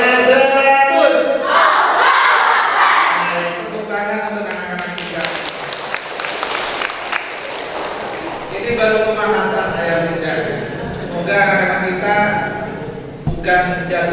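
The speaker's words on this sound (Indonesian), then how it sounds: "Tepuk tangan untuk anak-anak kita." Audience at an Indonesian Islamic school gathering claps and cheers for the children, a loud burst of crowd noise that swells and fades while a host keeps talking over it.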